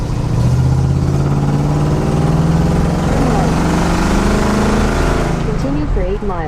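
Oldsmobile 442, a worn-out car after 20+ years, engine running with a loud steady rumble at close range, talk over it.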